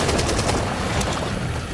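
Rapid automatic gunfire rattles continuously in the zombie shooter game Back 4 Blood, a loud, dense burst of shots lasting under two seconds with no talking.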